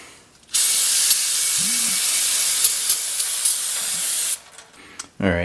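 Brake cleaner sprayed from an aerosol can onto a front brake rotor of a 2015 Toyota RAV4 Limited, one long loud close hissing burst lasting several seconds, then a short quieter spray.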